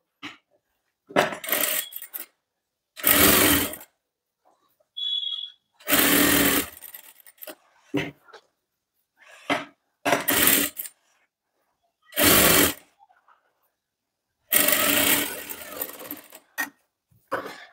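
A sewing machine stitches the lining of a sleeveless V-neck blouse in several short bursts of whirring, separated by silent pauses as the fabric is guided.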